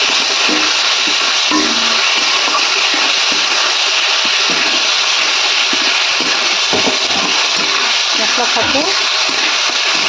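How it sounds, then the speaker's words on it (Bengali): Spice masala for soybean curry is sautéed in a pan with a constant loud frying hiss and intermittent scraping stirs, a voice speaking over it. "মশলাটা কষানো হচ্ছে"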